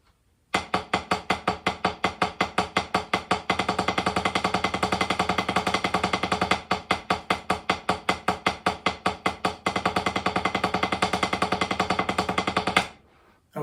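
Drumsticks on a practice surface playing steady 16th notes, alternating between single strokes and faster double-stroke bounces in even sections, sharp, dry and close throughout.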